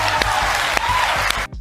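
A studio audience applauds in a dense, steady burst of clapping on a talk show, loud and close, cutting off abruptly after under two seconds.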